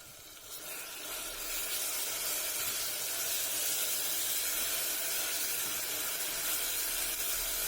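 A paste of onion and chili fries in oil for egg biryani, a steady, bright sizzling hiss that swells in the first second and then holds evenly, close and alone.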